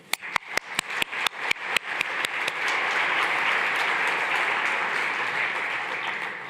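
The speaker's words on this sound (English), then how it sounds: "Big applause for that, please." Conference delegates at a plenary session give a round of applause that opens with a few sharp, separate claps and swells into dense, sustained clapping that slowly tapers.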